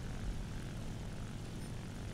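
Propeller aircraft engines drone steadily in the War Thunder combat flight game, a dense continuous low roar that stays loud and even throughout, with no voices over it.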